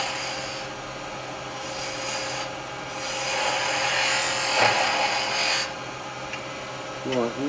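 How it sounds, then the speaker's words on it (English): A spindle gouge cuts wood turning on a lathe, making a steady scraping, rasping hiss over a constant motor hum that swells and eases as the tool works, close and fairly loud. "let's go with the spindle gouge."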